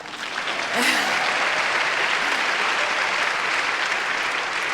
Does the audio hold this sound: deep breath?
no